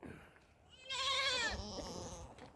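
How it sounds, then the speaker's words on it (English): Baby goat on a farm bleating once, a loud wavering cry lasting about half a second, close by, followed by softer noise. "I got a bunch of little tiny female goats."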